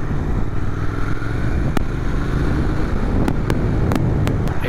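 A Triumph Thruxton 1200RS motorcycle on a test ride, its engine droning steadily and loudly under heavy wind rush, with a few brief clicks cutting through.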